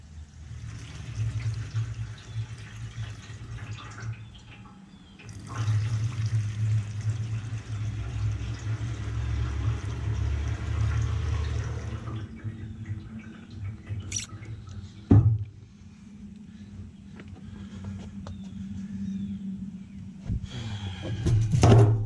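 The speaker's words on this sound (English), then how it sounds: "See, the gas leaks no matter what you do, no matter how tight it is." Gasoline pours into and leaks from the tank of a Ford FG11050PBE dual fuel generator, a steady close liquid trickle and drip with a brief squeezing pause midway and a couple of sharper clicks near the end.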